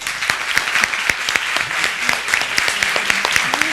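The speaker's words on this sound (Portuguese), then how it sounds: "Uma última salva de palmas para o Sr." Applause from an audience at a public school class presentation, a dense steady clapping that carries through the whole stretch, fairly close and loud with scattered sharp individual claps standing out.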